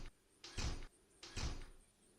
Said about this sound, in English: makes like a jail door noise